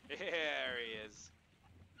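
A white chicken in the pirate video game Sea of Thieves lets out one loud, drawn-out honking squawk, followed by faint background noise.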